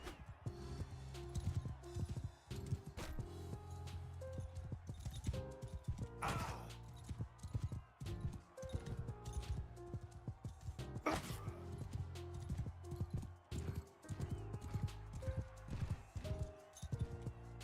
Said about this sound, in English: Oh, he fell off the horse again.